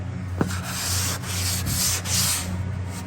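Drywall inside corner being sanded smooth, giving steady, close rasping strokes that swell and ease in a continuous rhythm, with no voices.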